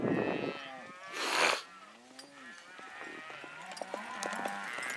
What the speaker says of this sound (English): we are driving cows